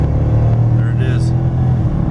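A 2014 Dodge Charger Pursuit with a 5.7L Hemi V8 and all-wheel drive accelerates with a deep, steady engine rumble, and a brief voice-like sound rises over it partway through.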